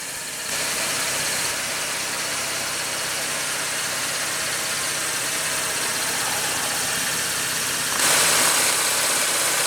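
A 2015 Chevrolet Camaro with the base 3.6 L V6 idles steadily at close range, a constant mid-range hum with broadband hiss that lifts slightly louder near the end, with no talking.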